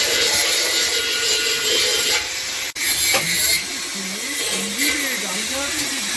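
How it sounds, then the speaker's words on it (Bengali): Train wheels are machined in a railway car shed, a harsh, continuous grinding and scraping that briefly cuts out before resuming, with people talking nearby. "এখানে চাকা কাটিং হয়"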